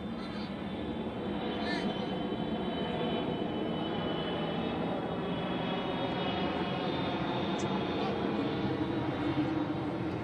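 An airplane flies overhead at a cricket match, with a steady, continuous engine drone holding throughout while people talk over it.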